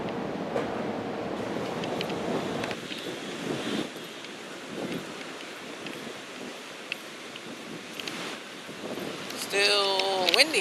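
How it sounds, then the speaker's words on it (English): Seaside wind gusts into the microphone outdoors, a rough, uneven rumble and hiss that rises and falls throughout, with faint higher sounds near the end. "Still windy out here anyway."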